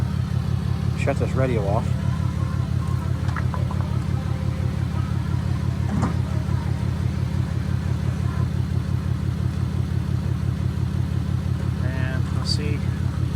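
A truck engine idles with a steady, close, throbbing rumble that runs the whole time while a person talks over it.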